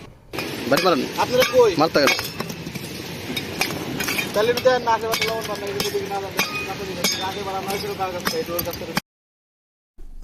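Khichuri stirred in a pot during a beach-side picnic, with spoon clinks and metal scrapes rattling steadily under continuous talk before everything cuts to silence at the end.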